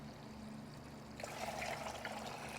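Water pouring and trickling out of a 1983 Kawasaki GPz1100 motorcycle during a clutch replacement, a quiet steady stream that grows fuller partway through.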